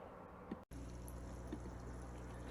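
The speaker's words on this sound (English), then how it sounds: "here's a video of our bubble buoy running" A bubble buoy's air pump pushes air through diffusion stones in water, giving a steady close bubbling and gurgling wash with a brief dropout early on and no voices.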